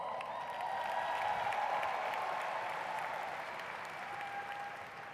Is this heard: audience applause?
yes